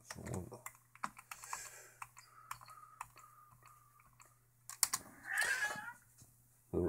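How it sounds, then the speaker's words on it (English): A cat meows loudly and close near the end, following steady light computer keyboard typing and ticking clicks in a quiet room beside a Raspberry Pi Zero setup. "Oh, sorry about the cat."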